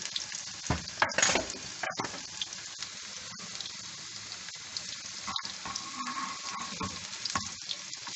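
Chopped garlic hisses and crackles steadily in hot oil, with occasional louder spatters and stirring sounds, close up and continuous, while cooking masar.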